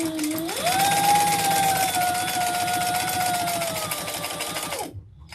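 A sewing machine stitches a seam on a leather garment, its motor whirring in one steady, close run for several seconds before cutting off abruptly.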